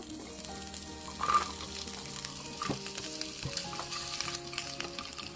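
Yardlong beans frying in oil, a soft steady sizzle and crackle at close range with occasional clinks and scrapes of stirring, fairly quiet overall.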